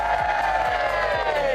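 Crowd cheering and whooping at a Chelsea Flower Show medal presentation, a dense, steady roar of many voices with sustained harmonic shouts, loud and continuous throughout, with a voice mixed in.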